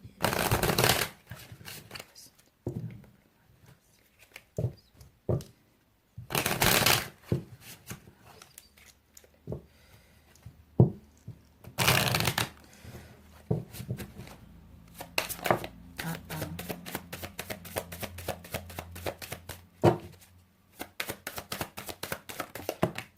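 Tarot cards are shuffled and laid out for a monthly Aries love reading, giving repeated crisp riffling bursts and soft slaps of cards placed on a table, close and fairly loud, with quiet gaps between bursts and no talk.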